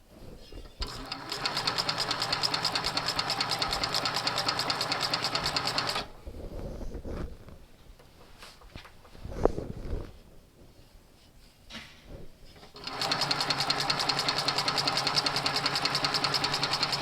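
A Cowboy CB6900 heavy-duty sewing machine stitches a dog collar in two long steady runs of fast, loud mechanical chatter, separated by a quieter stretch with handling clicks and movement before the stitching resumes.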